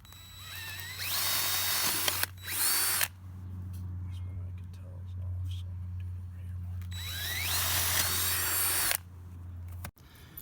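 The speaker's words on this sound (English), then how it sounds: "then we go and we drill those out" A power drill drilling screw holes whirs in two long bursts separated by a pause, close and loud, with a steady low hum underneath.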